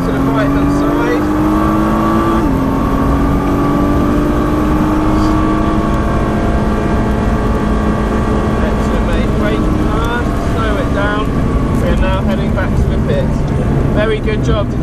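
A Nissan GT-R is driven flat out on the Silverstone circuit, its engine roaring loudly and continuously as it accelerates and shifts, heard from inside the car while an instructor speaks over it.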